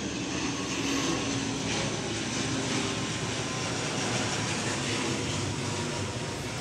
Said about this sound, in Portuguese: passando ali um avião